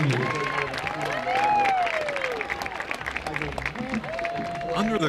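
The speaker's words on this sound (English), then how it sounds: "please give one more round of applause for this year's Raven Regiment seniors" A crowd at a high school football game applauds steadily for the seniors, with voices and cheers rising over the clapping throughout.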